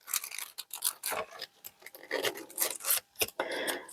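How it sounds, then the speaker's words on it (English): Rough, scratchy rasping of sandpaper on a sanding block rubbed back and forth in short strokes, close and fairly loud, with brief gaps between passes. "the other way of doing this is to use a sanding block"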